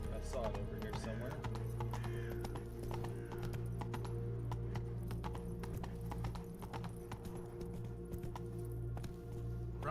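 Roach, a horse in a video game, gallops with steady, rapid clip-clop hoofbeats and an occasional whinny, continuous throughout over game music.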